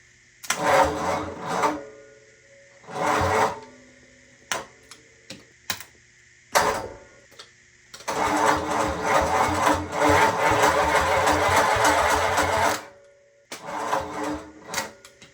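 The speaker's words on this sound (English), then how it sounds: "I'm going to go crank the engine over. Here we go, cranking." A flathead V8 engine cranks over in several bursts of rapid rhythmic churning, the longest lasting about five seconds, separated by quiet gaps and clicks.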